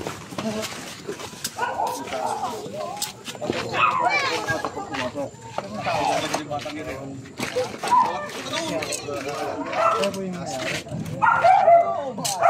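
Dogs bark repeatedly at close range, sharp irregular barks and yips mixed with people talking.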